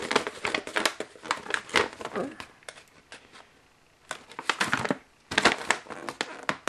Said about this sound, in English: let's just open this up